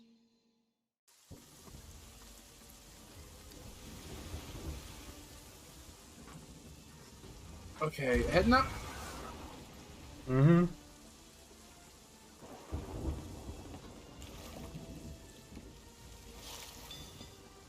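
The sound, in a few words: thunderstorm with rain in video game Sea of Thieves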